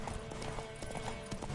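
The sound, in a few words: horse hooves and whinny, from video game The Witcher 3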